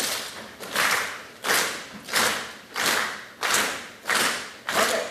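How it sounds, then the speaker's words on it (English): An audience plays along in unison, clapping, tapping hands, patting legs and stomping feet, making loud rhythmic bursts roughly every 0.6 seconds, each swelling and fading, with no talking. "You can clap, you can tap your hand, you pat your legs, or stomp your feet."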